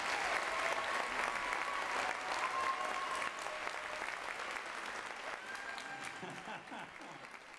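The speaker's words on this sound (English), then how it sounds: "give them another round of applause" Audience applause for children's dancers at a dance workshop: a sustained crowd of hands clapping, slowly fading, with faint voices and cheers mixed in.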